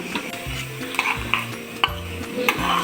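Fried onions are tipped into curry in a clay pot, making a short burst of sizzling with stirring scrapes and a few soft clinks, close and moderately loud, with no voices.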